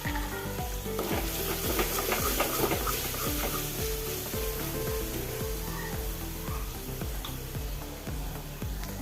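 Four chopped green chillies sizzle in hot oil in a pan for paneer vegetable pulao, a steady loud frying hiss with repeated scraping stirring strokes in an even rhythm throughout, no voices.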